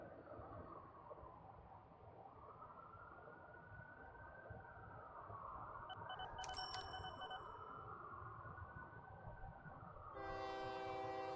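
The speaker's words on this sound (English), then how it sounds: "Such cute little trains." Small trains run in a train-management video game, a steady rolling rumble with a brief high chime midway and a bright horn-like tone near the end.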